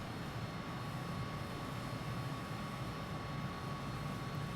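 A MiG-21bis jet cruises in Microsoft Flight Simulator 2020 with a steady, even engine roar and rushing air, constant and unbroken throughout.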